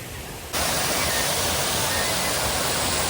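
Water rushes at Dada pass in Chikmagalur, a loud, steady, broadband roar that starts abruptly after half a second and continues unbroken, close by.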